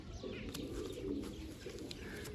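Loft pigeons coo faintly and steadily in a low, continuous murmur, with no voices.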